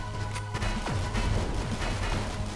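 A small explosion goes off in the space strategy video game Astroswarm, a short boom sitting amid a busy, dense mix of game effects and background music.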